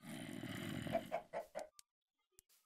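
Chickens cluck in Minecraft, a run of four or five clipped, nasal clucks after a steady background of game ambience, then near silence with one faint tick.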